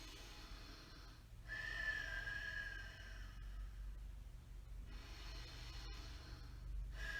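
Slow ujjayi breathing during a vinyasa yoga practice, long soft hissing breaths through a narrowed throat, a few cycles of inhale and exhale heard close and quiet over low room hum, no talking.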